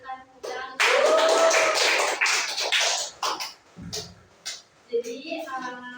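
A group of students clapping together in a classroom, loud rhythmic bursts of hand claps that break into scattered taps, with a voice and teacher's speech mixed in near the end.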